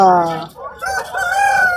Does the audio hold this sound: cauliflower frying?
no